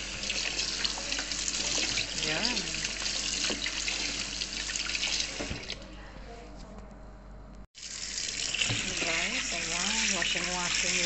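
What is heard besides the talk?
washing baby kailan vegetables under running tap water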